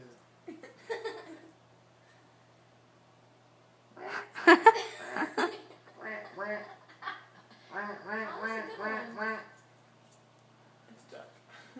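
A person vocally imitates a duck, producing a run of short, nasal, quack-like bursts in a quick rhythm, close to the listener, with laughter and other voices around them.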